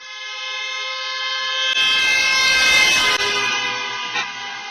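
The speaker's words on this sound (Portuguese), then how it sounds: "Esse barulho é o que você percebe conforme o objeto vai se aproximando, fica o som mais agudo" A siren wails steadily as a vehicle approaches and passes close by, loud throughout, its pitch shifting as it goes by with engine rumble beneath.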